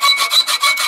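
A coarse-toothed saw blade cutting through steel for a tomahawk build, rasping in steady back-and-forth strokes, about five even pulses, close and alone with no talk.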